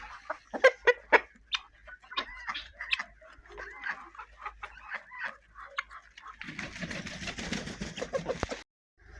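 Several chickens cluck in short, irregular bursts close by, followed by a denser rustling, pecking clatter near the end.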